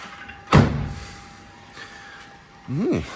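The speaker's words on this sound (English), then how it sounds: "Let's see if the door shuts." A single solid thump of a Land Rover Defender 90 door shutting, close by, followed by quiet and a brief squeaky vocal sound near the end.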